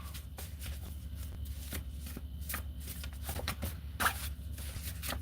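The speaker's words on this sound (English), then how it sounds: "something keeps saying, shuffle some more" Playing cards shuffled repeatedly close up during a tarot reading, a steady papery riffle and patter with brisk flicks throughout and a brief sharper snap near the end, over a low constant hum.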